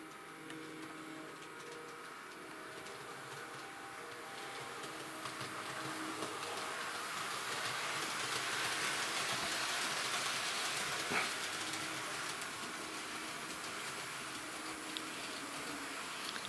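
A Hornby model train running on a pulsed controller gives off a steady, faint electrical buzz that swells slightly midway, with a hissy wash underneath and no voices.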